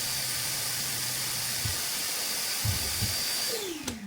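A vacuum cleaner runs beside a CNC machine in a workshop with a steady, close hiss and a high whine, a few low knocks, then a falling pitch as the noise winds down at the end.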